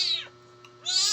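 A very small kitten gives two clear, high meows close by, separated by a brief quiet pause.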